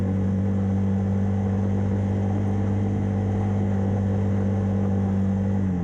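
An ATV engine bogs out on a frozen lake, a loud, steady low droning hum that holds an even, labored pitch without revving up.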